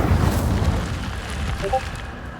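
Incendio fire spell cast in the Hogwarts Legacy video game, a loud fiery burst with a whooshing boom at the start that fades out over about two seconds.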